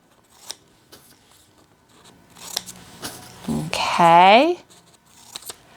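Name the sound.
cutting out paper shirts with scissors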